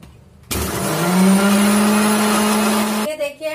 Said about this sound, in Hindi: और इसको हम ब्लेंड करते हैं।